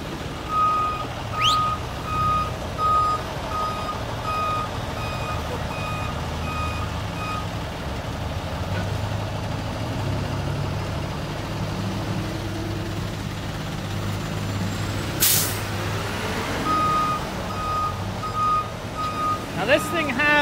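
Heavy haul truck on about 96 wheels moving a 750,000-pound industrial dryer along a road, its engine rumbling low while repeated reversing beeps sound at the start and end, with people talking nearby.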